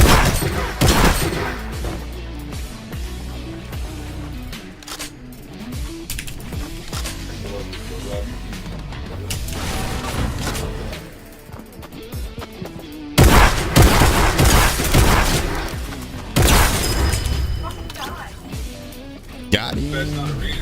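Hunting rifle shots and other gunfire in the video game Fortnite crack out repeatedly among loud booms and game effects, with a player talking excitedly over much of the action.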